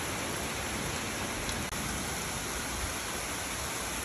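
Steady rain pours during a rainstorm behind a house, a dense, even hiss of drops striking surfaces and dripping from a gutter, continuous and fairly close, with one brief soft dip partway through.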